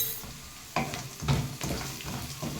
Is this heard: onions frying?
yes